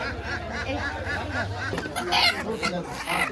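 Chickens, local and golden breed hens, cluck at a busy weekly poultry market, close and fairly loud, with crowd chatter and other market noise around them.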